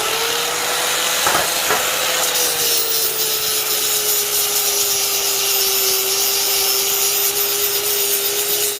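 A power tool grinds steadily across a welded steel step for a Farmall Super A tractor, producing a loud continuous abrasive whine with a sustained tone and a few brief scraping bursts near the start.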